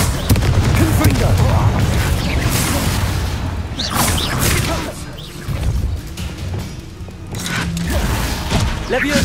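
Fiery Confringo spell blasts in Hogwarts Legacy, loud booming bursts and crashing impacts layered over dense combat noise, with a few sharper hits standing out.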